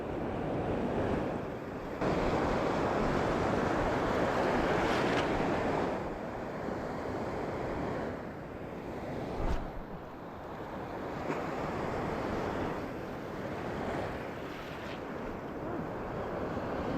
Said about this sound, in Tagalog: Laki tayo ng alon.